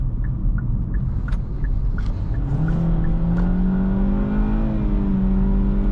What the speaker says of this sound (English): Like this CVT picks up speed pretty quick.